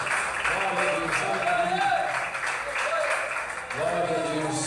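Church congregation clapping during an evangelical worship service, steady rhythmic applause under a preacher's loud voice and crowd voices.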